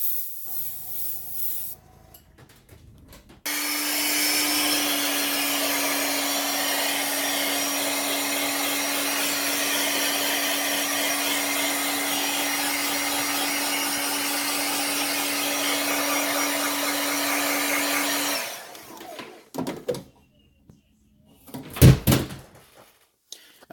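A heat gun blows steadily for about fifteen seconds, drying pearl white and hot pink paint on a 1.5 square bill crankbait lure, a loud broadband whoosh that starts abruptly, then cuts off and gives way to a few handling knocks.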